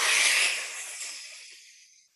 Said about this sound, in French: Expire le plus fortement possible.